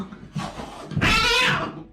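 A Bengal cat, a domestic and leopard cat cross, gives a loud drawn-out meow, a shorter call first and then a long, strained yowl lasting about a second, close and alone.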